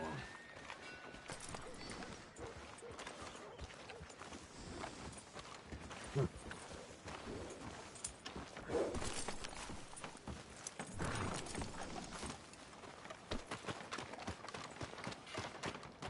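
Horse hooves clip-clop steadily in a Western-themed video game as a rider approaches a hitching post, a moderate, even trotting rhythm that runs beneath people talking.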